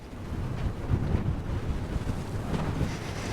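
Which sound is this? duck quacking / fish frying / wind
wind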